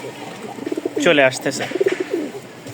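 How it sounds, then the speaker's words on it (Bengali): Pigeons coo in repeated throaty bursts, close by, while someone speaks briefly over them; the soft rolling calls come in short clustered pulses. "ডাক হাঁক কবুতরের 100 থাকবে"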